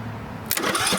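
A John Deere lawn tractor starter cranks in a short burst about halfway through, following a quiet hum, with the engine turning over loudly and raggedly to the end without any voices.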